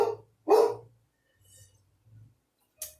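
A pet dog named Lucy barks indoors in a kitchen, one sharp close bark followed by a few fainter, softer yips spread over a few seconds.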